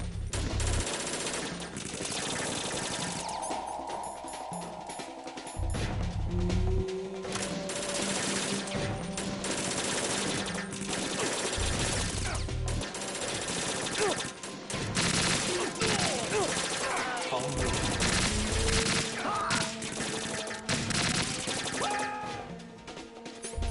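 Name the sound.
automatic weapon gunfire in video game Metal Gear Solid 2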